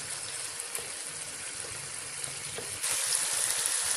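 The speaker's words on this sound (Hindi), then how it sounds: "टमाटरों को मैंने दम पे रख दिया था, ये सॉफ्ट हो चुके हैं। अब मैं इसकी थोड़ी सी भुनाई करूंगी" Softened tomatoes fry with spices in a pan for an egg and chickpea curry, giving a steady close sizzle with soft stirring scrapes that grows louder and brighter near the end; no one speaks.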